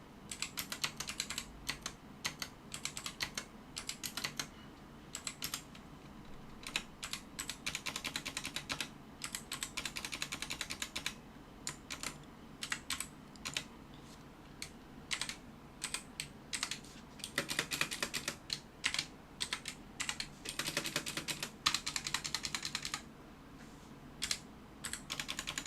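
Keys clatter on a computer keyboard during word-processor document editing, quiet close-up typing in quick bursts and pauses throughout, with no talking.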